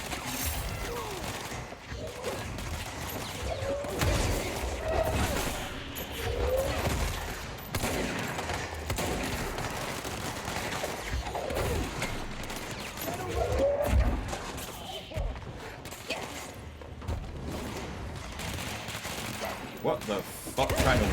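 Dense bursts of enemy gunfire in the video game Control, rapid shots and clattering impacts layered over a busy combat soundscape, with a voice talking over parts of it.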